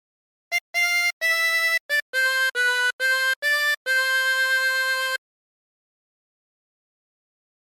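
A 24-hole tremolo harmonica plays a short phrase of Home on the Range: a run of about ten separate breathy reed notes with a wavering tremolo, the last held longest, heard close and alone in quiet.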